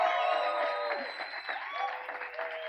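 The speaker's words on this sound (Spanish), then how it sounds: "Vamos a darle un fuerte aplauso al pastor Efraín" An audience applauds pastor Efraín at a church faith forum; the clapping is steady and continuous, with tonal, music-like sounds running beneath it throughout.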